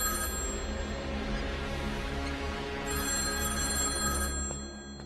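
A phone rings continuously in a Telugu film scene, a steady electronic ringtone with bright repeating tones filling the room before fading near the end, with no talking over it.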